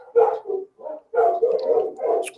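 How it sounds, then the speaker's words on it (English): Several dogs bark in a burst of repeated barks with short gaps between them, loud and fairly close, with no talk over them. "Never mind the dogs. We'll let them bark."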